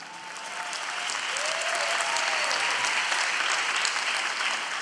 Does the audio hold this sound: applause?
yes